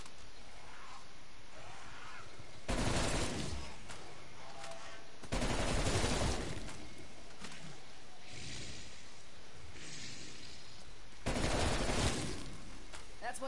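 Gunfire in Call of Duty: Black Ops Cold War Zombies on the Die Maschine map comes as three separate short bursts of rapid shots. Quieter game ambience fills the gaps between them.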